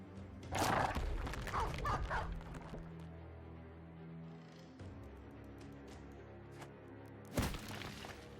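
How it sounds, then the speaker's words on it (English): Dogs barking in the video game Battle Brothers: a cluster of loud barks and yips near the start, quieter growling and whimpering in the middle, then one more sharp bark close to the end. "More dogs."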